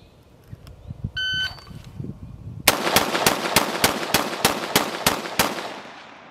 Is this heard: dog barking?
no